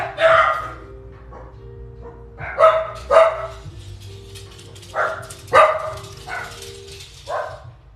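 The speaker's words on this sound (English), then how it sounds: "They're all barking at the wind" Dogs bark repeatedly outdoors, sharp loud yaps arriving in uneven bursts, with a low rumble of wind underneath.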